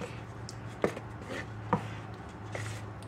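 Pumpkin sugar cookie dough being mashed and stirred with a flat wooden spatula. Two sharp knocks and a faint third stand out over a steady low background hum.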